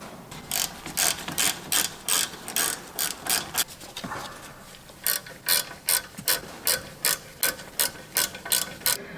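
Quick bursts of ratchet clicks loosen a T40 rear brake caliper bolt on a 2006 Mercedes-Benz E350, about fifteen sharp pulls in two runs separated by a short pause, close and loud with no talk.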